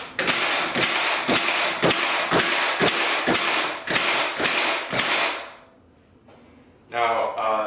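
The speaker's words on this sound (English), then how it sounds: "Now I'm going to switch it into this other fire mode, this bump fire mode," A Milwaukee 15 gauge finish nailer fires in bump fire mode, driving about a dozen sharp, evenly spaced nails in quick succession, each with a punchy thud, followed by a pause and a brief voice.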